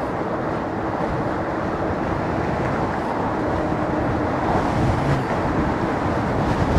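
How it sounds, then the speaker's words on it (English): Steady, broadband wind roar buffets a rider on a Lectric Xpeak e-bike riding hands-free, loud and continuous throughout with no talk. "Whoa, that was the wind."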